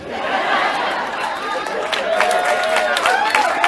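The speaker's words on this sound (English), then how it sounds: "That's the rednecks cheering right now." A crowd of rednecks cheers and whoops together with clapping and chatter mixed in, a dense sustained roar of many voices.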